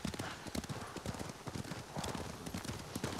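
Horse hooves clip-clop in a steady rhythm within the video game Ghost of Tsushima, close and moderately loud, with a brief whinny-like tone and faint game ambience beneath.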